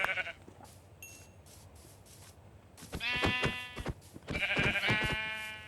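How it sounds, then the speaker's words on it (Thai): Sheep in Minecraft bleat in two loud, wavering bursts during the second half, preceded by quieter game ambience and a brief high ping, with no voice present. "ก็ผมฆ่าแกะก่อนดีกว่านะครับ"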